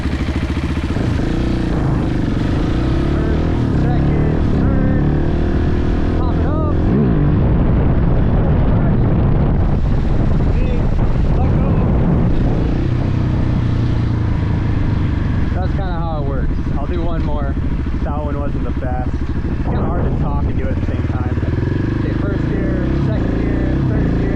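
Motorcycle engine roaring loudly and steadily up close during a coaster wheelie, with a grinding scrape now and then and someone talking over the noise throughout.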